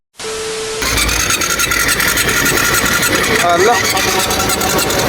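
A motorcycle engine that won't start properly runs roughly and then stalls, a loud close rumble lasting a few seconds while people talk over it.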